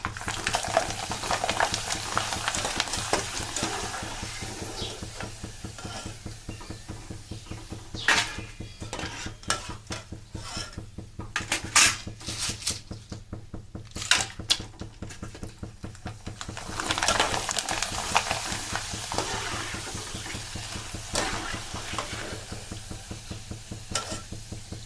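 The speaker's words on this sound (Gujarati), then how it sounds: "તો મસ્ત મજાની એવી વેફર તળાઈને તૈયાર થઈ ગઈ છે જો." Dried potato wafers frying in hot oil, a steady crackling sizzle running the whole time, broken by frequent clinks and scrapes of a metal utensil against the pan, close and moderately loud with no voices.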